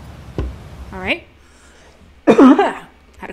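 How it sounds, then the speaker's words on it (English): A single short, sharp cough bursts out near the start, followed later by a rougher throaty spell of coughing or throat clearing with some vocal tone, then a brief faint noise at the end. "Had a cough, sorry."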